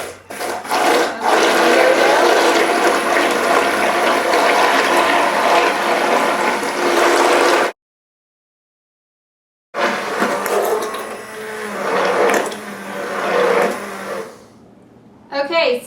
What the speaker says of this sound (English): I'm going to grab my stick blender and mix to trace.